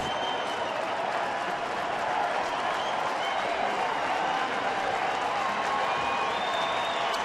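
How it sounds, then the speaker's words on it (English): A baseball crowd at a New York Yankees at Detroit game in April 2009 applauds and cheers steadily, a broad, even wash of clapping and voices from a stadium that keeps up without pause. "Crowd trying to give Jackson some help"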